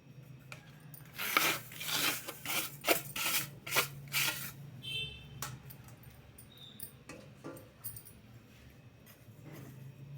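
Roasted semolina, almonds, cashews and poppy seeds are mixed together by hand for sweet somas, giving a series of gritty, dry rubbing strokes up close that grow busy and then thin out to quieter scuffs.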